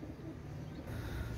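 Pakistani Rampuri pigeons, a newly adult pair, give a soft low cooing that is brief, faint and close, with no talking over it.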